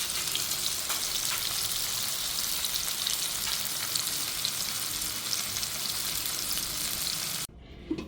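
Hilsa fish fries in hot oil, a dense, steady crackling sizzle with scattered pops that continues without a break and then drops away sharply near the end.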